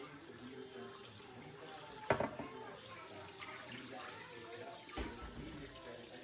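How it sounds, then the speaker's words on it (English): Raw goat meat being washed with water and fresh lemon under a running tap, a steady splashing stream with a sharp clatter and slosh in the middle and another near the end, fairly quiet and close. "I'm washing the goat with some water and fresh lemon."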